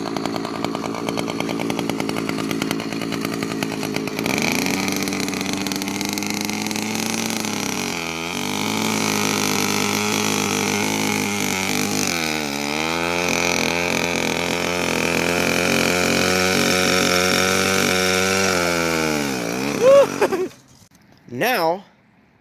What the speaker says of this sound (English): Here's some footage of this thing doing a burnout and the RPM that it was hitting when doing that burnout.